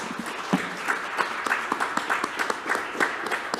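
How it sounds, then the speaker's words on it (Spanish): A church congregation applauds in thanks for recovered members, a steady run of many hand claps at a brisk, uneven rhythm, moderately loud and sustained throughout. "agradecemos al Señor y damos un fuerte aplauso"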